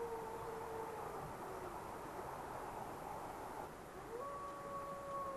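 Wolves in the Pamir mountains near Karakul lake give distant, faint, overlapping howls. Long sustained tones drift and shift over steady background hiss.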